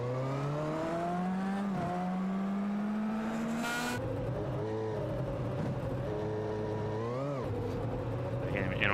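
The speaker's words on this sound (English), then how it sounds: "what it sounds like at speed when someone hits that curbing." A Champ Car Lites race car roars past at high speed, engine pitch climbing and dropping through gear changes, with a sharp rough jolt midway as it rides over curbing.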